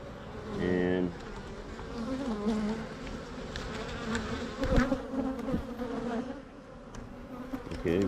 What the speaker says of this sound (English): Oh, you got bees attacking the camera.